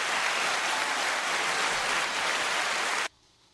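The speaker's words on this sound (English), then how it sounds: "That was the clapping." Sustained applause from an audience at a live-recorded show opening, dense and steady for about three seconds before cutting off abruptly.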